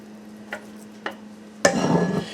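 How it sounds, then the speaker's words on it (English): Meatloaf mixture spooned into a loaf pan: two light taps, then a louder, close wet scraping and plopping that continues to the end, with a steady low hum underneath. "I'm going to go ahead and just spoon this right in to the loaf pan."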